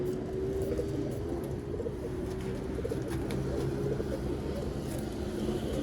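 Golden breeder pigeons from a champion bloodline coo steadily in a low, continuous throaty drone, with a faint car-like background hum and no speech.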